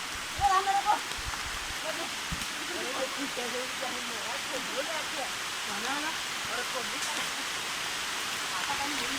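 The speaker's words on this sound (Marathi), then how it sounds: "खूप जोरात पाऊस आलेला आहे." Heavy rain pours steadily outdoors on a hillside, a dense even hiss throughout, with a few brief thumps at the start and other bird calls faintly heard under it.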